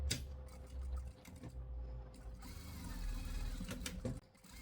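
A sewing machine stitches felt sheep toys with a fast, even mechanical chatter, fairly faint and steady, with a few clicks and no talking.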